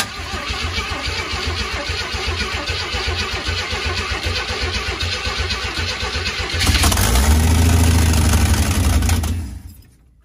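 A loud van engine cranks and catches, roaring up briefly before settling, then cutting off abruptly near the end; close and harsh, with no talking.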